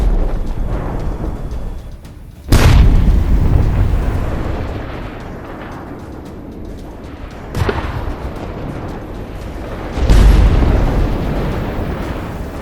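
A tank explodes in combat after trying to detour around a minefield, a series of heavy booming blasts with sharp onsets, followed by rumbling roar and debris noise, loud and close, with no voices.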